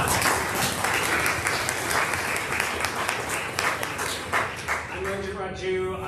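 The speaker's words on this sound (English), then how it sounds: "I think round of applause for that." An audience at an AI symposium in Los Angeles claps steadily and loudly throughout, a dense sustained round of applause that tapers slightly at the end as a faint tone enters.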